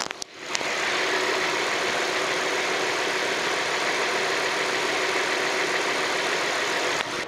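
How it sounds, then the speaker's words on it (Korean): A Hyundai Grandeur IG LPG car engine idles steadily, recorded close by with the hood open, an even, continuous hum with a hissy whir, starting after a brief knock. "나가서 LPG의 엔진 소리를 한번 들어보도록 할게요"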